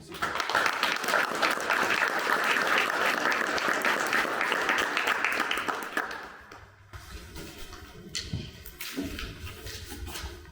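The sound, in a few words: audience applause for candidates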